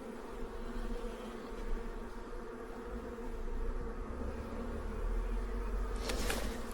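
Honeybees hum in a steady, faint, close swarm at the entrance of a hive during a colony transfer, a continuous buzz with one brief louder burst near the end and no talking.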